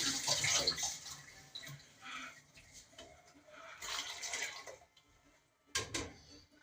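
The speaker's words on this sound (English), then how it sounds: "Put some more water in on the rice and" Water is poured into a pot of basmati rice in a kitchen. Bursts of splashing and trickling come and go in uneven surges, with quieter gaps between them.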